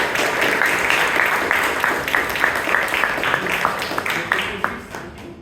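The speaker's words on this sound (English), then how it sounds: "big round of applause for our committee" A crowd applauds, a dense wash of many hands clapping steadily for several seconds before tapering off at the end.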